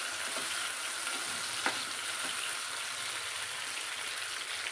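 Tomatoes sauté in a pan until soft for a ridge gourd and yellow gram bean curry, giving a dense even sizzle with a few faint spoon taps, close and steady without talking.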